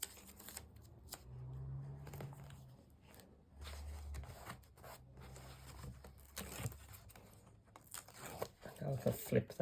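Black tape rips off a roll in short tearing bursts, quiet and close, mixed with paper handling and rustling while a voice talks throughout.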